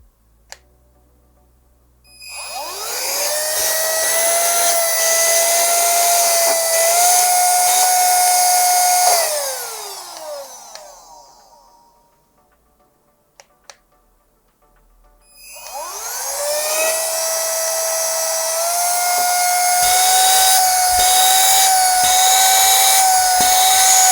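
A Hoco ZP6 robot vacuum cleaner's motor whirs up to a steady high-pitched whine, runs, spins down, then starts again after a short pause; no voices.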